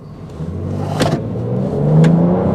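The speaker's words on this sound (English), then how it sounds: "There goes the turbo spooling up." A 2013 BMW X5 accelerating hard at altitude, its turbocharged engine building in a rising, steady roar from inside the cabin, with a couple of brief sharp transients over the climbing engine note.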